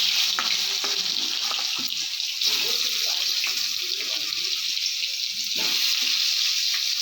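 Chunks of giant taro and potato sizzle steadily in hot oil in a wok after a cumin tempering, with a continuous loud crackle and occasional spatula scrapes and stirs, no talking.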